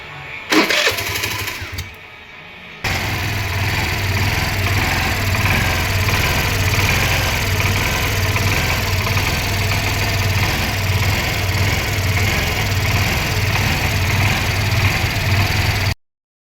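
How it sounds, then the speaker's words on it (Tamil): A BS6 vehicle whose fuel pump wiring is being altered cranks briefly, then starts and settles into a steady, loud, even idle that runs continuously at close range before cutting off abruptly. "இப்போ வண்டி ஸ்டார்ட் ஆகும்"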